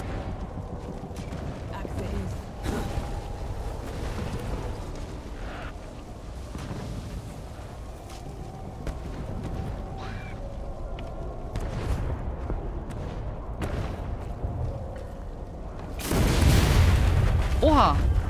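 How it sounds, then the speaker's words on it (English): A boom goes off in the fantasy action game Flintlock: The Siege of Dawn, a loud burst near the end after a stretch of rumbling combat sounds and clanks. "That was an explosion."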